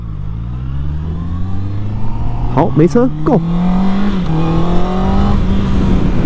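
Engine of a 2021 Honda CB650R motorcycle running as it rides off onto the road, a steady mid-pitched drone rising slightly in pitch, continuous and close, with a voice speaking briefly over it.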